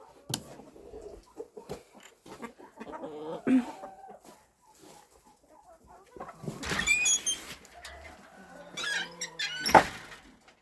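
Scattered hen clucks and short squawks in a farmyard, some close and some farther off, with soft rustling and shuffling between the calls.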